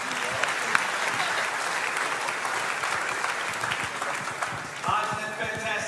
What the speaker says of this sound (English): can we get one more round of applause, ladies and gentlemen?